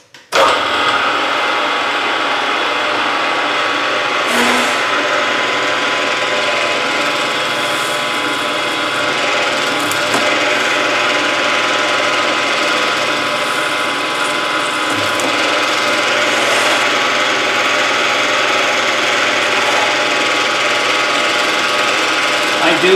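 A drill working through a series of holes with an old-school drill jig in a shop, a loud continuous mechanical whir with faint clicks and small shifts in tone over the long stretch.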